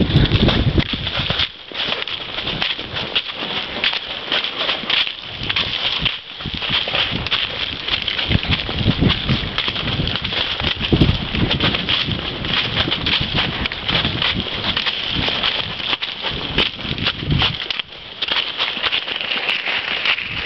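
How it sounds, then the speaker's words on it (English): Hooves of a large horse being ridden outdoors, a steady close clip-clop of footfalls running continuously under heavy wind and crackling noise. "Mama riding that giant horse."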